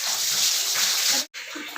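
Running water splashing steadily while fish is washed for a fish curry, close and loud, with a brief pause near the end before the flow resumes.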